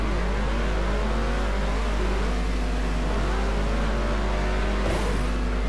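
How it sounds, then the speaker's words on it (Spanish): Buggy engine at full throttle in the Beach Buggy Racing game, a steady droning whine that holds and shifts pitch slightly, loud and continuous with no talk over it. "A ver, acelerando a tope."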